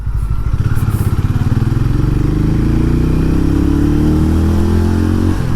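A Hero Mavrick 440 motorcycle engine runs loud and close while riding, its steady drone rising in pitch as the bike accelerates through the gears.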